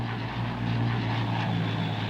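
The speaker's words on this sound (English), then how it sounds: "Even longer serving is the C-130 Hercules, first seen at this show and still flying with our Air Force 60 years later." A C-130 Hercules propeller aircraft flies past at an airport opening air show, its engines giving a steady, loud drone with a strong low hum that holds without break.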